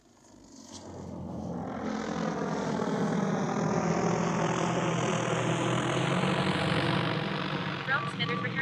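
A XAG agricultural drone flies a seeding and top-dressing run, its loud, steady rotor drone building over the first second and holding strong with a slowly rising pitch, with talk underneath.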